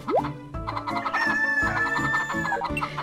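Chickens clucking and a rooster crowing in the farming video game Harvest Moon Save the Homeland, a clear synthetic rooster call rising over repeated short clucks with soft plop sounds, no talk.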